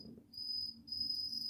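A cricket chirping inside a tarantula enclosure, a thin, high, continuous trill in two quiet bursts with a short pause between, heard faintly against low room hum.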